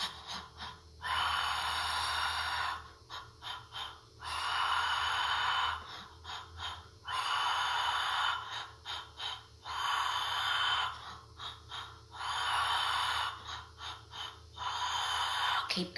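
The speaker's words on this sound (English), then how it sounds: "Make sure that 4-part breath is expanding your belly." Deep four-part breathing for building strength and stamina, close and loud, with repeated long airy breaths broken by short staged sniffs and pauses across the stretch.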